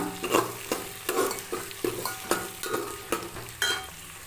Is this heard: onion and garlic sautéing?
yes